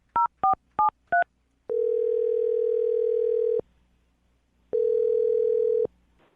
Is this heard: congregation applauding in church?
no